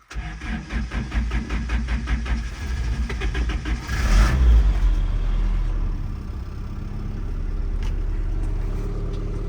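A Toyota pickup truck with a leaking head gasket sputters in rhythmic, uneven chugs, then revs into a louder surge. It settles into a steady low idle rumble while being driven into a garage, with no talking.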